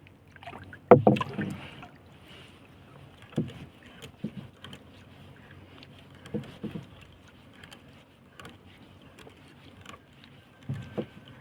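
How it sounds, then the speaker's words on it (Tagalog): A small wooden fishing boat is paddled back across calm water, with quiet, irregularly spaced paddle splashes and knocks against a near-silent background. "Tapos mananagwan ulit tayo pabalik mga lods."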